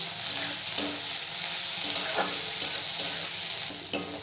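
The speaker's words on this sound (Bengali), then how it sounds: "নেড়ে চেড়ে ভালো করে ভেজে নেব।" Onion, grated ginger and garlic frying in a pan for a Bengali-style aloo paratha, a continuous close sizzle broken by repeated spatula scrapes and stirring strokes at a loose, regular rhythm.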